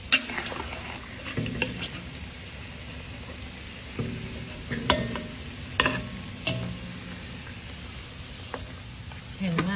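Pork sizzles and crackles in a hot pan, with irregular scraping and stirring knocks over a constant frying hiss.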